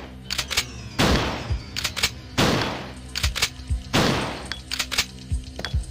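Gunshots fired in Resident Evil 2 ring out as three loud, evenly spaced blasts, each with a long decaying tail. Sharp, quieter clicks and clacks fall between them.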